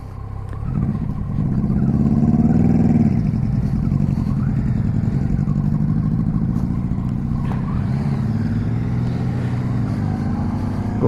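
A Yamaha FZ09 / MT09 900cc motorcycle engine drones steadily and loudly under the rider, its pitch swelling and settling as gears change, with a constant rumble throughout.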